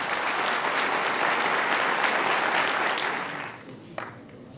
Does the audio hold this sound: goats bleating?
no